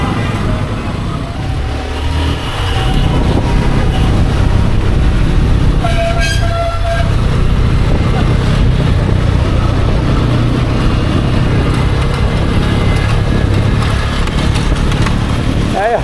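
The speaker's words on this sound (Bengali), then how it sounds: "বাইক থেকে হরমর হরমর করে শব্দ আছে।" A motorbike ridden at night through a traffic jam keeps up a loud, continuous engine roar mixed with surrounding traffic rumble, and a horn sounds briefly partway through.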